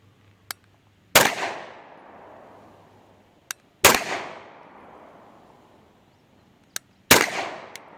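Three loud, sharp single-action shots from a Sig P226 TACOPS pistol with an SRT trigger at a range, spaced a few seconds apart, each ringing out briefly. A faint click comes just before each shot.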